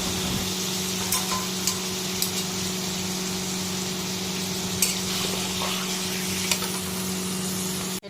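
Whole spices fry in a pan with a steady, moderate sizzle over a low background hum, broken by a few light clicks and knocks.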